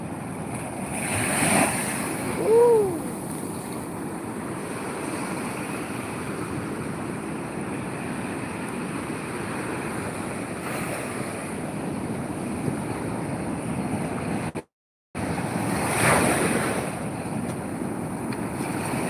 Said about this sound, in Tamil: தண்ணி காலில் வந்து அடிச்சிச்சு பாருங்க